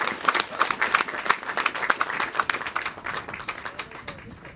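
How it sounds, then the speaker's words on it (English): An audience at a Franklin community Civil War Trust gathering applauds, with dense, steady clapping from a crowd that fades slightly toward the end. "Give her a round of applause."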